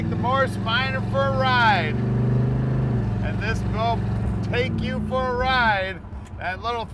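A 1956 Morris Minor Woody Wagon with a 350 V8 engine idles with a deep, steady rumble while a voice speaks over it, the exhaust note holding low and even throughout.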